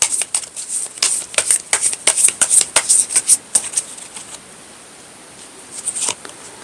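Tarot cards shuffled and drawn, a rapid close-up flurry of crisp card flicks and slaps that thins out into a pause, then a few more snaps.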